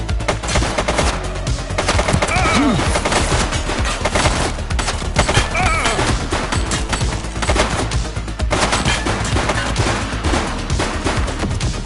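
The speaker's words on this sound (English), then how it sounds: "He's shooting!" Dense, continuous gunfire in the police video game The Precinct as a suspect shoots, rapid automatic bursts layered loud and close with no pause throughout.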